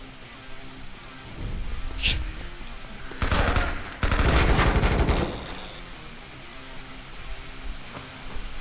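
Rapid video game gunfire bursts out in a shootout, with a single early shot followed by two loud, dense volleys of automatic fire, then fading to quieter background.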